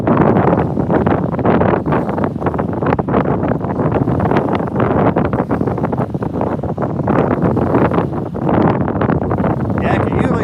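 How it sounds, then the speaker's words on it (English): Strong wind buffets the microphone on an icy lake during blue catfishing, a loud, steady roar with rough gusts that swell and fade for the whole stretch. "A little less wind would be great"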